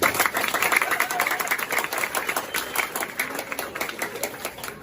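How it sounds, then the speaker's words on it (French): Crowd at a gala at the Hôtel Roi Christophe clapping steadily, a dense continuous patter of many hands with a speaking voice carrying over the applause. "Applaudissez-vous, s'il vous plaît"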